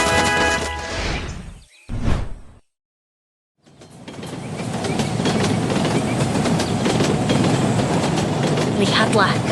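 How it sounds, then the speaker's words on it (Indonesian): A classic steam train rolls past with a steady, loud rumble and rhythmic rattling after a brief noisy start and a moment of silence. "Lihatlah kereta uap klasik itu melaju gagah membelah gersangnya gurun."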